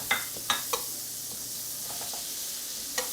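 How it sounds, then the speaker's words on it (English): Six tablespoons of butter melting in a pan on the stove for a white sauce, giving a steady soft sizzle with a few sharp clicks of a utensil against the pan near the start and near the end. "we got 6 tablespoons of butter, and we're going to melt that"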